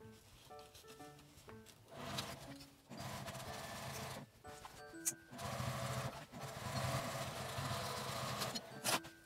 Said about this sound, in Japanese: 上端に一周端ミシンをかけます。